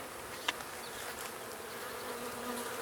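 Honey bees crawling over a hive frame during an inspection give a steady, close insect hum that carries through the whole stretch, with one brief sharp tick near the start and no voices.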